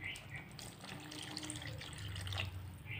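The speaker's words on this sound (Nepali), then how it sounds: "अलिकता पानी पनि हालिदिन्छु।" Water is poured into a simmering tomato vegetable curry, a near, gurgling splash and trickle that runs unevenly for a few seconds over a faint bubbling background.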